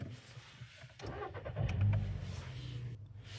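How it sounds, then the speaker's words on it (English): A car engine cranks and catches, then settles into a steady idle that stays fairly quiet and close, with no talking. "We can try starting engine and play with this a little bit."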